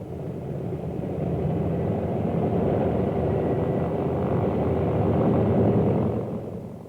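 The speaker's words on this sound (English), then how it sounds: "The planes raced back to their base with their high-priority cargo." World War II photo-reconnaissance planes over New Guinea drone with a steady, broad engine rumble that swells slightly and then fades near the end, with no voices.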